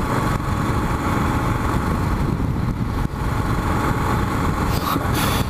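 A Honda Goldwing motorcycle rides steadily through turns, its engine a loud, close, continuous drone under wind rush, with no talk.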